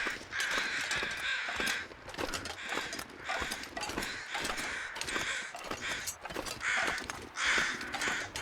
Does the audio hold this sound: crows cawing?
yes